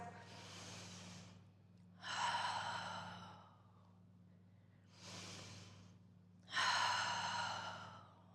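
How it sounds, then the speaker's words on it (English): Slow, deep breathing during a guided flow exercise session, with four long, audible breaths alternating between softer airy inhales and louder, fuller exhales, close and unhurried, with no talking. "Breathing, taking 3 more breaths."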